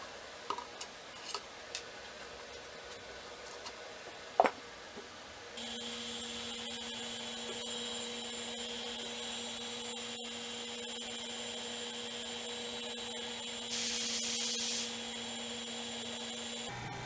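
A vacuum pump degasses resin for a pistachio-shell casting in a vacuum chamber. A few light clicks and taps come first, then the pump starts and runs as a steady, close, continuous hum that holds to the end.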